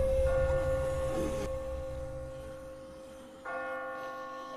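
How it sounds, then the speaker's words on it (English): Deep church-style bells in The Walking Dead video game ring out in long, sustained tones that swell, fade, then strike again, loud and resonant with no talking. "I just got spooked by those bells."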